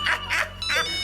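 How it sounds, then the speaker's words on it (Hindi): A phone rings in a domestic comedy scene, three bright electronic tone bursts repeating at a quick, even pace, fairly close and clear with no talk over them. "जिया जी का फोन"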